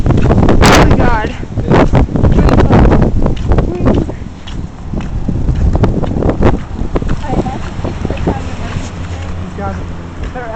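Strong wind blows outdoors on a hillside during a nature walk, battering the microphone with loud, gusty low rumbling while people talk through it.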